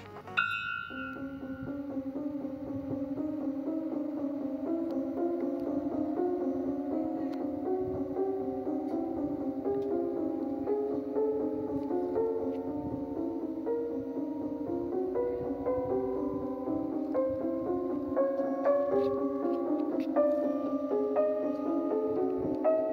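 A steady layered synth pattern plays continuously, with interlocking repeating notes that cycle against each other in shifting rhythmic alignment.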